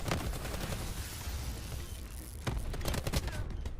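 Rapid bursts of automatic gunfire in a Black Ops 4 multiplayer match, dense overlapping shots crackling continuously with heavier volleys near the end, fairly faint in the mix.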